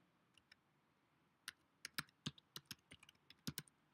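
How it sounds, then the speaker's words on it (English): Typing on a computer keyboard: a short, irregular burst of crisp key clicks, faint and close, starting with a couple of isolated taps and then a quicker cluster of keystrokes over a quiet room background. "I'm just going to type in"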